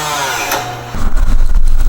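A power tool starts up loud and close to cut a bolt on a Volvo 240, its buzzing whine rising partway through and holding steady with no talking.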